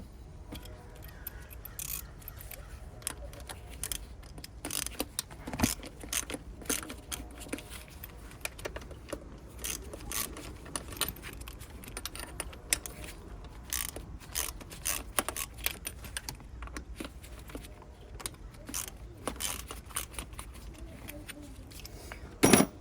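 Ratchet work loosening bolts on an Audi A4 engine during a thermostat replacement: a long run of sharp, rapid metallic clicks and clatters in bursts, fairly close and moderately loud, with no voices.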